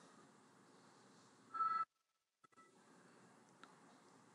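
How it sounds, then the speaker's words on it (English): A Windows 11 low battery alarm notification ringtone sounds as one short electronic tone burst, fairly clear against a faint, quiet background, with no talking. "once you're satisfied with the low battery alarm notification ringtone, click on apply and click on OK"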